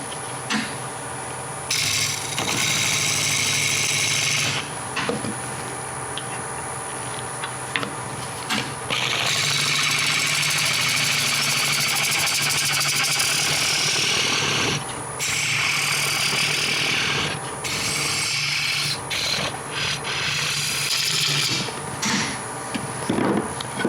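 Wood lathe turning a bowl from an odd-shaped log, the cutting tool scraping away waste wood in a continuous raspy hiss over a steady motor hum, broken by brief pauses as the tool lifts off.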